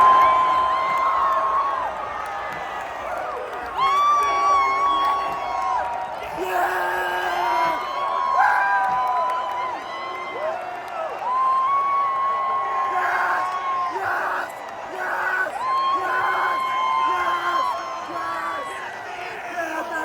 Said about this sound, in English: The stadium going crazy and me just going nuts.